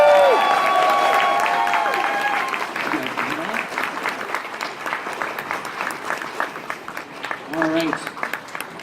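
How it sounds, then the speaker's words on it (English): Convention opening-ceremony audience applauding its directors, loud crowd clapping at first with voices over it, then thinning into scattered claps and some cheering. "one more round of applause for our directors."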